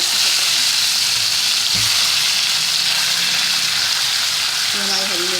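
Green and whole red chillies frying lightly in hot oil in a pan, a loud constant hiss of sizzling with a brief clatter partway through and a faint voice near the end.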